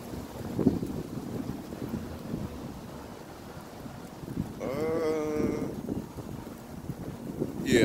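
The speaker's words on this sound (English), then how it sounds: "Nice early, and now it's all windy." Gusty wind buffeting the microphone in low rumbling bursts, with a brief tonal sound in the middle and no clear talking.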